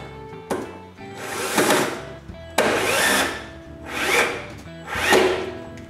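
A power drill drives six-inch screws through wood to fix a clamp rack to the wall, with several long whirring bursts that rise and fade, separated by short pauses, close and fairly loud.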